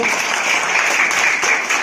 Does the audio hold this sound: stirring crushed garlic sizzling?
no